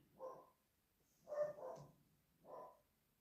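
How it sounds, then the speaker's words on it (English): A dog barks three times in quick bursts, with a short double bark in the middle, fairly loud and close in an otherwise quiet room. "my dog stopped barking"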